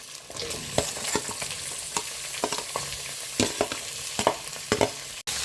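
Potatoes and chopped onions being stirred in a hot pan for masala dosa filling, with steady frying sizzle and a series of distinct scraping stirs at irregular intervals, close and moderately loud, no talking.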